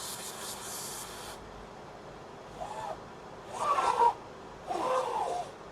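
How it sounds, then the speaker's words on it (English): Faint hissing bursts of freeze spray aimed at a liquid-damaged iPhone SE board, three short blasts of rising length against a quiet background hum. "So our handy dandy freeze spray."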